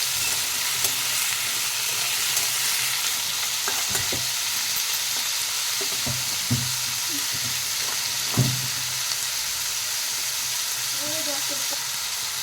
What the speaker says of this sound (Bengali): আলু পেঁয়াজটা দুটো একসাথে ভালো করে ভেজে নেব